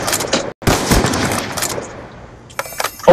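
Rapid automatic gunfire from a player's weapon in a shooter video game rattles loudly in dense bursts, broken by a brief pause, then trailing off before sharper clattering shots near the end.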